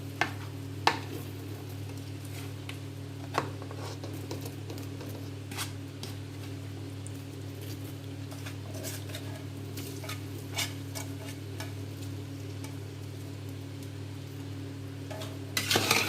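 A spoon stirs coconut, almonds and raisins in a pan for suji halwa, giving soft scraping and occasional clicks over a steady low hum and faint sizzle, close by with no voices.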